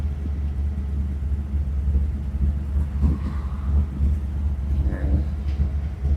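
A super fast Ford Mustang at a Montana drag-racing and driving race week gives off a steady, deep engine rumble that holds at an even, moderately loud level throughout.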